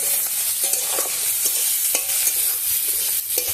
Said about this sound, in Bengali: আর দিয়ে দেবো পেঁয়াজ কুচি। এবার এগুলো একটু লাল লাল করে ভেজে নেব।